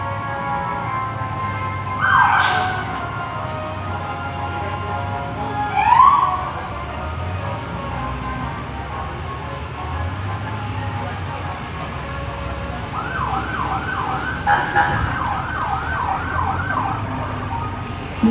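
Siren of the Trinidad Ambulance District ambulance rolling through a Fourth of July parade in Colorado, with a few short whoops early on and a steady wail later, heard under crowd noise and passing engines.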